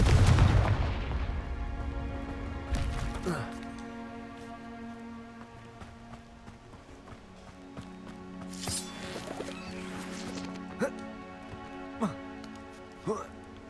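Confringo fire spells in the game Hogwarts Legacy burst with a heavy boom at the start, followed by sharper crackling hits amid sustained tonal game music, with a voice calling out spell names.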